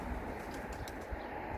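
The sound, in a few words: young pigeon cooing in an aviary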